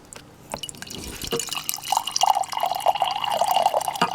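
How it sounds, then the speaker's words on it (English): Filtered water drips from a homemade water filter, with a few separate drops at first that quicken into a close, continuous trickle into a container. "it's been filtering for a little bit, so I should get a little water out of there"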